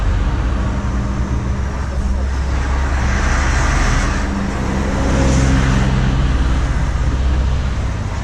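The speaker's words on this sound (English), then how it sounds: "Seems to be lots of lorries around here." Heavy road traffic with lorries and trucks rumbling past, a steady broad roar with a swell midway as a large vehicle goes by close, heard from inside a new truck cab.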